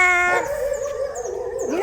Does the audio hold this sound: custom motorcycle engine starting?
no